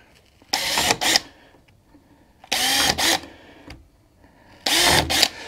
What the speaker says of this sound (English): do my pilot holes